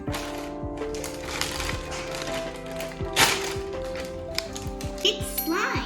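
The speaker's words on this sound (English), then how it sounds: "Let's unwrap it." Close crinkling, tapping and tearing of packaging as a package of slime is unwrapped, irregular bursts and rustles, with someone talking throughout.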